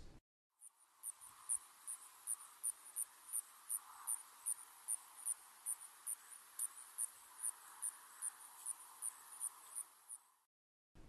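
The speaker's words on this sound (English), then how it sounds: "A few striped ground crickets, Alonemobius fasciatus, have begun singing from the moist soil near the pond edges" Striped ground crickets (Allonemobius fasciatus) trill from moist soil near a pond edge in a steady high-pitched chirring, with evenly spaced louder pulses repeating throughout, alone and fairly faint.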